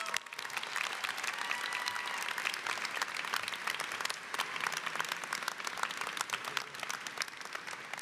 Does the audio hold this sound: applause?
yes